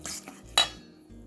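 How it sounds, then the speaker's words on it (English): Fish patty mixture for dog treats, with cooked deboned fish, being mixed in a bowl, giving a few soft scraping and clinking utensil sounds with one sharper clink near the middle. "you mix it all together until it looks like a big old mess"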